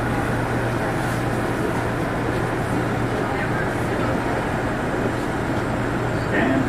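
Interior of a Bombardier R179 J local subway train on the NYC Subway in Brooklyn, a steady loud rumble with a constant low hum and rolling wheel noise throughout, and faint speech under the running sound.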